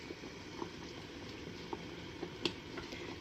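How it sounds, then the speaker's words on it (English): Homemade marmalade bubbles at a rolling boil in a pot, with a faint, steady simmering hiss and occasional soft pops and bursts, heard alone at low volume. "And I bring it to a rolling boil, which sounds fun."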